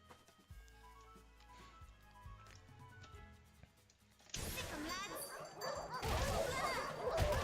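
Cartoonish dog barks and yips from the Them's Fightin' Herds fighting game come in short bursts over game music, then a louder, denser stretch of game action follows, with a voice talking at times.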